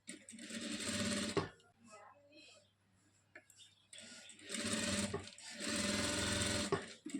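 A sewing machine stitching the edge of a chudidar dress top runs in two long, loud bursts of rapid whirring with a quiet gap between them, where faint handling noises are heard.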